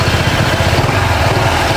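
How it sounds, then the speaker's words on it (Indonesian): Honda ADV 160 scooter with its 160 cc engine started and idling close by, a steady low throbbing rumble running evenly throughout with no voices. "Ini gue coba nyalain. Dan karakternya mesin 160 gitu kan"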